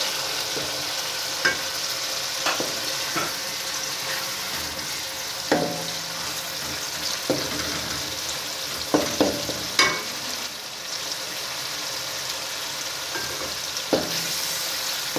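Half a kilo of chicken being stirred and fried with softened tomatoes and onions for palak gosht, under a steady close sizzle, with irregular scraping and clinks from the spoon throughout. No one speaks.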